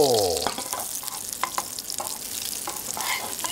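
Hamburger patty made with blue cheese sauce sizzling in a pan as it is flipped, a soft steady frying hiss with a few scraping spatula touches and light clicks near the start.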